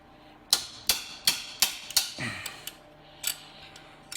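A hammer strikes a belt tensioner on a GM vehicle's accessory drive, giving five sharp metallic knocks in a steady rhythm, then a few lighter taps, close and loud with no talk.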